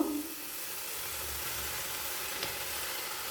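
Tomato sauce hitting shredded cabbage frying with egg in a pan, a sharp splash at the start settling into a steady close hiss and sizzle.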